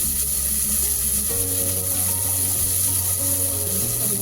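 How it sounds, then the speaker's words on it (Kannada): Onion and tomato frying in a pan, a steady close sizzle with soft bubbling and occasional stirring noises, continuous throughout with no voices. "ಈಗ 1 ಟೊಮ್ಯಾಟೊ ಹಾಕ್ಕೊಂಡಿದ್ದೀನಿ. ಅದು ಸ್ವಲ್ಪ ಸಾಫ್ಟ್ ಆಗೋವರೆಗೂ ಫ್ರೈ ಮಾಡ್ಕೊಳ್ಳೋಣ."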